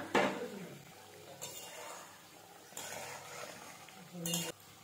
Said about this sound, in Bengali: দিয়ে একটুখানি মিশিয়ে নেব।